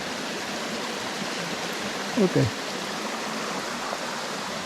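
Two waterfalls meet and pour together over rock in a constant, broad rushing roar, with a brief word spoken over it.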